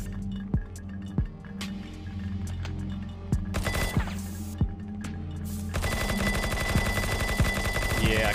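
Gunfire in the shooter War Brokers Battle Royale: single sharp shots spaced over a steady hum, then a rapid automatic burst rattling continuously toward the end, loud and close.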